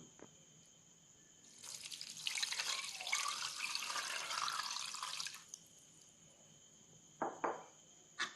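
Coconut milk pours into a pot of cooked broken rice for kanji, a steady liquid splashing for about four seconds, followed by a few brief drips and clinks in a quiet kitchen.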